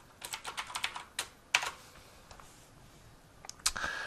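Typing on a computer keyboard while working in a video editor: a quick run of crisp, close key clicks, then a single sharper tap, a pause, and a few more clicks at the end, fairly quiet.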